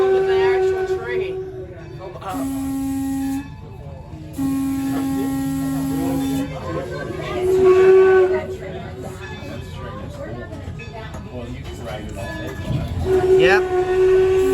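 Steady low rumble and hum of a passenger train at Rappahannock Passenger Station, with sustained whistle-like tones, heard under people talking nearby throughout.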